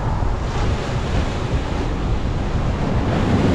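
Loud ocean surf surges up over the seawall at Boa Viagem beach in Recife, a continuous roaring wash of water mixed with gusty wind noise on the microphone, close by and with no voices.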